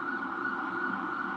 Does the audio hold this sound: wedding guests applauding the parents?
no